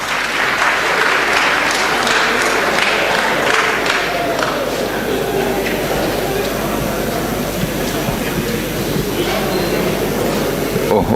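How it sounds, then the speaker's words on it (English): Audience clapping at a book launch in Mutare on AI and the Global South, a dense, steady round of applause from a crowd filling the room, continuous and fairly loud throughout with no voice rising above it. "Round of applause, ladies and gentlemen."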